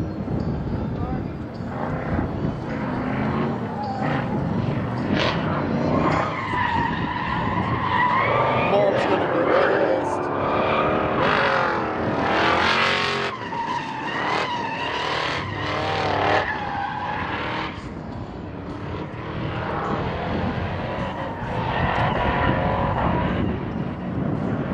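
A Ford Mustang drifts at a drift event, with continuous tire squeal and skidding over a roaring engine. Voices talk throughout, and the noise rises and falls as the car slides.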